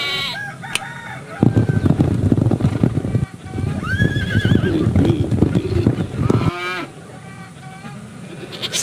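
Horse neighing and whinnying in a farm-themed painting and writing game, a few loud whinnies over a busy backdrop of other barnyard animal calls including a rooster crowing, with hoof clip-clops mixed in.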